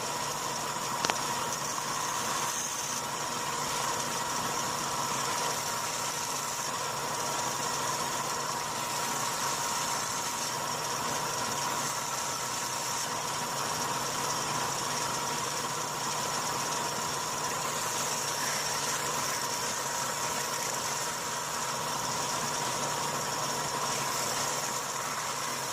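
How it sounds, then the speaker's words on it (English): A belt sander fitted with an 80 grit belt runs continuously in a workshop, a steady droning hum with a faint whine and no pauses, while sheath work continues on an Old Hickory butcher knife. "I have an 80 grit belt on my sander"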